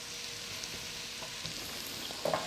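Parsnips browning in a pan give off a steady, fairly quiet sizzle throughout, with a few soft clicks and a brief louder scrape near the end.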